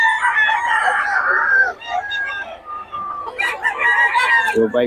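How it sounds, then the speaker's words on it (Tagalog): Several roosters crow one after another, loud and close, with hens clucking in between, at a chicken market in Bocaue. "Umura ng mga manok"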